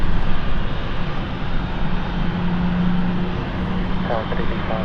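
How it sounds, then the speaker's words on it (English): An airplane taking off from runway 27 at London City Airport, a steady broadband engine roar that holds at a constant level throughout, with faint voices audible toward the end. "Runway 27 clear for takeoff."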